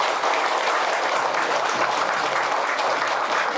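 An audience applauds warmly at a sisterhood ceremony between Buddhist temples. The clapping is dense and steady and fills the whole stretch at an even, loud level, with no voices over it.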